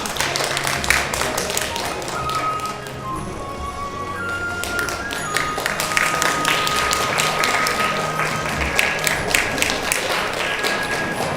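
Audience applause at an honorary hanbok ambassador appointment ceremony, scattered irregular clapping from a modest crowd, with camera clicks and a brief lull in the middle.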